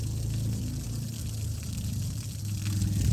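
Running water fills a pet's water dish with a steady, close rush and a low hum underneath, continuous for the whole stretch with no talking.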